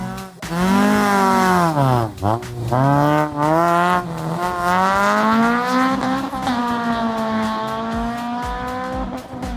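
Loud, droning exhaust from an otherwise stock four-cylinder car fitted with a large aftermarket muffler, with a sustained raspy tone that rises and dips under the throttle and runs steadily throughout.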